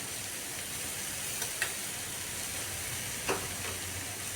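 Fried potatoes sautéing in spices for a Bengali rui fish curry with ridge gourd, giving a steady soft sizzle with a couple of faint scraping stirs.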